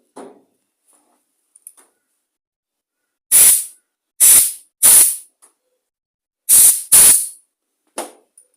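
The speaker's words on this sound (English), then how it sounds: "Give it all another good spray out and a blow off." Compressed air blasts through a Briggs & Stratton E-series plastic carburettor in six sharp hissing bursts, each about half a second long, with short gaps between them, loud and close, with a few faint clicks in between.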